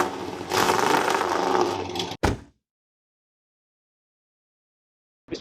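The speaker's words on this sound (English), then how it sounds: "I think I'm just gonna roll the windows down and listen to the exhaust because" Loud exhaust of a Dodge Viper, heard with the windows down: a dense, steady roar for about two seconds that cuts off abruptly, followed by one short burst and then silence.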